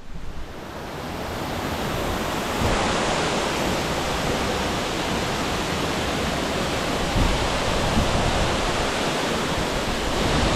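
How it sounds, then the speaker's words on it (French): The Saillant waterfall in Auvergne roars in a continuous, dense rush of falling water, heard alone with no voices. "Encore un site exceptionnel, la cascade du Saillant."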